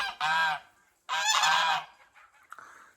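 Two loud, harsh goose honks close by, each about half a second long, then a few fainter calls and rustling.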